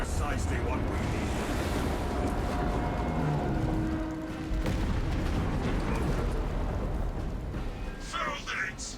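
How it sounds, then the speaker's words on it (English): Charges detonating in the Warhammer 40K video game, a dense, loud roar of blasts and rumbling debris filling the whole stretch, with a voice briefly heard over it. "Detonate the charges now."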